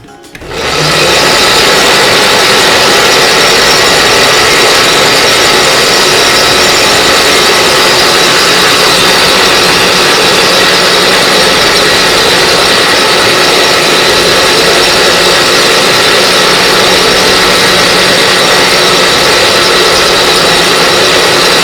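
A solar-powered charkha spinning wheel spins and twists cotton yarn, giving a steady, fairly loud mechanical whir and drone that starts abruptly and runs unbroken to the end, with no voices.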